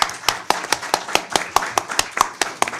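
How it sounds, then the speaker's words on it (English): A small audience at a panel on a PLA invasion threat and Taiwan applauds the panelists with sparse, distinct claps at a brisk, irregular rhythm. The sound is close and fairly quiet. "please give us a round of applause"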